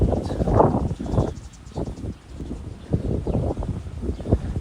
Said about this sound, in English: It's a little bit windy here. Is the audio okay? I don't want this to become too annoying, you know, with the wind.